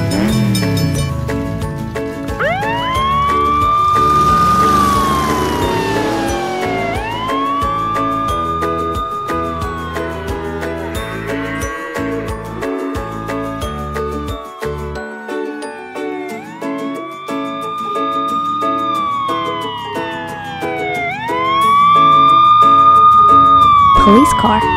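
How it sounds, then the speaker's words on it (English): Police car siren wailing in repeated rising and falling sweeps, loud and close, mixed with a busy musical backing throughout. "Police car,"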